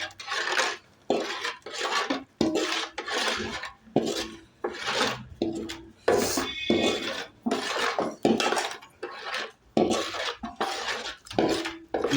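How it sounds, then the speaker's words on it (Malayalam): Roasted rice flour being stirred in a pot, with a steady series of scraping, rasping strokes of a spoon against the pot, rhythmic and close, about a dozen passes with short pauses between. "വറുത്ത് വെച്ചിട്ട് ഇളക്കിക്കൊണ്ടിരിക്കുകയാണ്"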